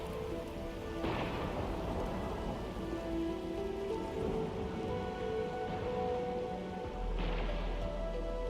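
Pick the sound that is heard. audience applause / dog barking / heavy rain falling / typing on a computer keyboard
heavy rain falling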